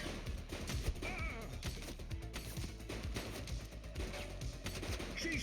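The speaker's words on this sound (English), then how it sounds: "Shots fired." Gunfire rattles in the police game The Precinct: dense, rapid bursts of shots crackle continuously at moderate distance, layered over background game noise and music.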